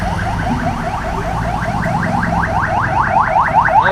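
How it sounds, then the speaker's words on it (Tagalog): Wailing ambulance siren near the site of a crash between an Nmax scooter and a Super Grandia van in traffic, rising and falling in quick repeated yelps that grow louder and closer over traffic rumble. "Ay, ambulansya"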